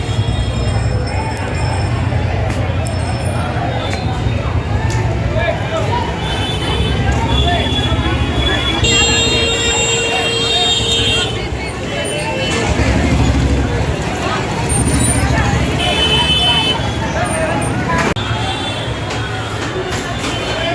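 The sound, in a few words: busy street traffic with car horns during Dhanteras market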